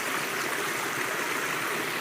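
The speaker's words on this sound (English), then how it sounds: "There's a water source." Stream pouring from the Beaver Pond outlet along the Appalachian Trail, a steady close rushing of water with no pauses or voices.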